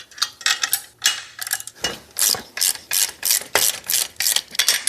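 A ratchet loosening bolts on a chair bracket in a garage workshop, rapid clicking pawl bursts in a repeated rhythm of short strokes, loud and close, with no speech.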